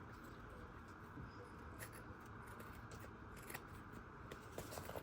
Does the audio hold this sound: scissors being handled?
yes